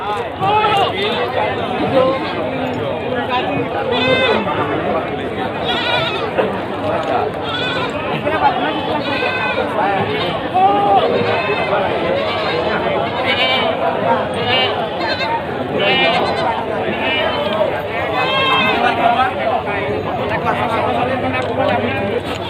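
Jawa Randu buck goats bleat repeatedly at the busy Legi Munjungan livestock market around midday, loud close cries overlapping one another above a dense crowd chatter and people talking.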